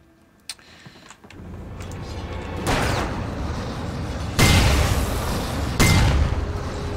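Explosions in the Alan Wake: The Signal video game, three heavy booming blasts about every one and a half seconds, each a sudden loud burst that fades into a rumbling roar, with a sharp click before them.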